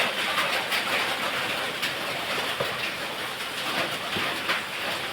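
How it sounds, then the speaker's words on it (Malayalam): Heavy rain pouring outside, a dense steady hiss that holds at an even level the whole time, with no voices. "പുറത്ത് നല്ല മഴയുണ്ട്, അതാണ് സൗണ്ടിനൊരു വ്യത്യാസം വരുന്നത്."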